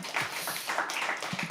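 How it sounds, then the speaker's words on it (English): Scattered clapping from a small audience at a poetry open mic, a brief patter of handclaps that runs continuously and fairly close for about a second and a half, with no talking over it. "Can we please have a round of applause for that?"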